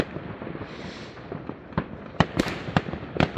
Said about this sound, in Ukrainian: І ці взриви, вибухи, це це страшне.